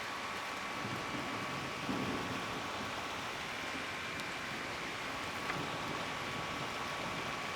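Low rumbling thunder from cloud-to-ground lightning rolls in the distance beneath a steady hiss of rain in southeastern Pennsylvania, with no sharp close cracks.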